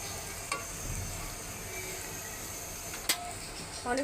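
Luchi, puffed wheat flatbread, fries in hot oil with a faint, steady sizzle and a few sharp clicks and clinks of utensils.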